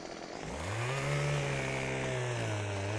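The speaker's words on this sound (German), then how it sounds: "wir sägen dann hier." A chainsaw in the video game Farming Simulator 15 revs up and holds a loud, steady whine while sawing through wood, with no talking.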